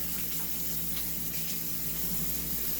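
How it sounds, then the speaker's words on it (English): Kitchen tap running steadily while hands are washed during baking, a continuous soft hiss of flowing water splashing into a sink, fairly faint and without talk. "So wash my hands."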